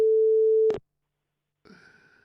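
A steady telephone tone breaks off abruptly with a click after a call cuts out, then silence, followed by faint line noise and a short burst of distorted sound.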